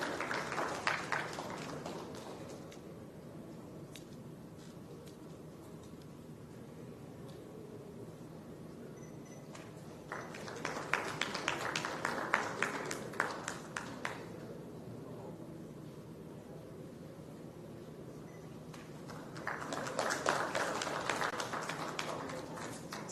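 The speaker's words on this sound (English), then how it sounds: "Let's hear a round of applause," Audience at a South India television summit breaks into two bursts of applause, each lasting a few seconds, against faint room background, with a quieter start at the opening.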